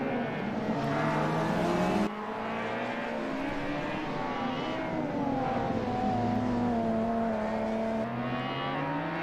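Touring race cars run nose to tail at Wellington in a TTM race, engines droning loudly and continuously with shifting overlapping pitches as the line of cars accelerates and passes, with no talk.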